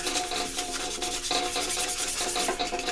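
Sandpaper rubs back and forth by hand across a knife being polished, a close, scratchy rasp repeating in quick, steady strokes with no pause.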